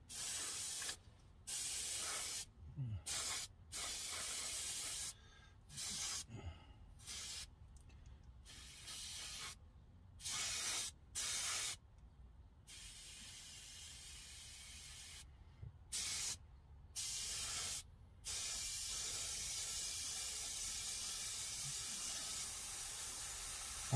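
Short bursts of aerosol spray hiss as Testors enamel paint is applied to a scale model auto body, each spray pass separated by brief pauses, steady and close with no talking.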